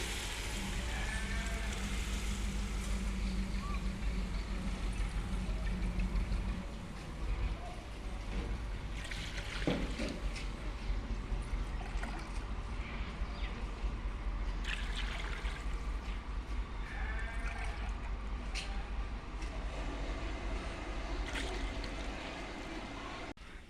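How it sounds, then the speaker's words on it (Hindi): Four glasses of water poured into a pot of fried masala for fish pulao, a steady rushing splash that runs throughout at close range. "ये वाले 4 गिलास मैं पानी शामिल कर रहा हूँ"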